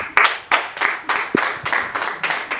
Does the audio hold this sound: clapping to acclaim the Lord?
yes